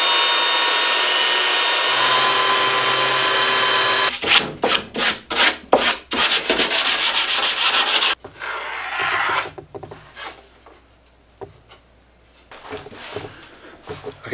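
A belt sander held in a right-angle jig grinds steadily alongside a dust extractor, then breaks into bursts of rough rubbing and rasping, and finally drops to a quieter hiss with faint voices.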